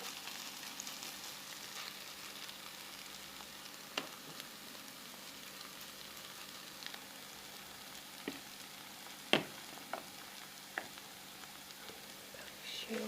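Quiet, steady sizzling of zucchini and oat fritter batter frying in a pan over medium heat, with occasional soft clicks and taps of utensils and faint speech in the background.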